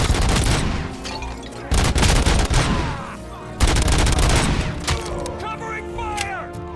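Gunfire in the video game RoboCop: Rogue City on PS5, loud close bursts of rapid shots in several volleys with short gaps, with shouted voices mixed in.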